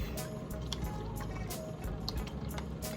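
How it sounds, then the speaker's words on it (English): A paint brush is swished and rinsed in a water cup during a painting lesson, giving soft liquid sloshes and drips, with light taps against the container. "So I'm actually gonna rinse my brush off."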